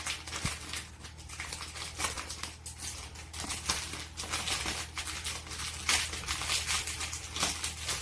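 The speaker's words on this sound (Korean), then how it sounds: "비닐봉지를 이렇게 넣은 다음에" A plastic bag crinkles and rustles while it is fitted over a bicycle brake lever to slip on a new brake hood. The crackling is close and irregular, made of many short crunchy bursts over a quiet background.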